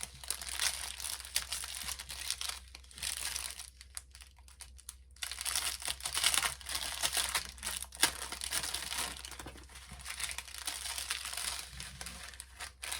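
Small plastic sachets of diamond-painting drills from an AliExpress unboxing crinkle and rustle as they are handled, a steady close crackle running throughout with a brief quieter gap.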